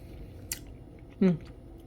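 Close, soft chewing and squishing of chewy rice-dough ice cream mochi, two brief bites in a quiet room.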